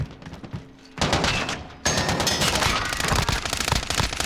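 LC10 submachine gun fire in Call of Duty: Warzone: a brief burst, a short pause, then a sustained rapid automatic stream of loud, close shots running to the end.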